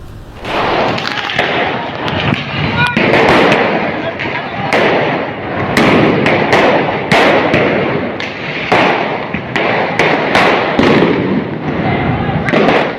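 Repeated sharp bangs and pops of firecrackers burst irregularly through a loud, noisy street brawl, with a crowd shouting and clamoring throughout.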